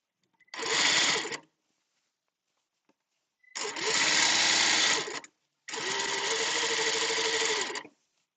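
A sewing machine stitches a seam in three bursts, the first short and the next two longer and steady, each a loud, close, fast mechanical whir separated by silence.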